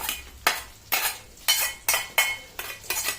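Quarter kilo of garlic being stirred in a frying pan, with rhythmic scraping strokes of a utensil about every half second over a soft sizzle, close and moderately quiet, no voices.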